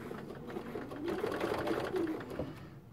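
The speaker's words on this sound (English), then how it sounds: "we're going to stitch all the way around the outer edge" Sewing machine stitching around the outer edge of a fabric patchwork coaster, a steady, fairly quiet whirring hum that runs continuously for the whole stretch with no talk.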